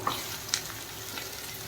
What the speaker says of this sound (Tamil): இப்போ கட் பண்ணி வச்சுருக்கிற சுரக்காயை சேர்த்திக்கணும்